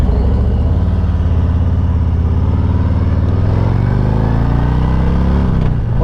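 A Harley motorcycle out on the road making a turn, its engine giving a steady, loud, close low rumble that lasts throughout, with a slight change in pitch near the end as it turns.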